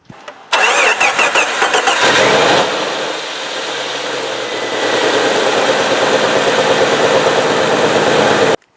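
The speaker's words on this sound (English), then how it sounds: "let's start her up" A Jeep Wrangler YJ engine cranks briefly and fires up loud and close, revving before settling into a steady idle for several seconds, then cuts off abruptly.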